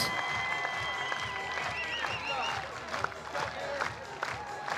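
A softball crowd at a championship game roars and claps after a run-scoring double, broad cheering and applause filling the stands with scattered shouts and whistles, while a commentator's voice runs underneath.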